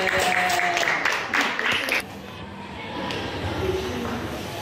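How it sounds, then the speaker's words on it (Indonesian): A short burst of audience applause at the start that quickly fades, leaving a quieter murmuring room afterward. "Tepuk tangan buat Siti Nur Aini."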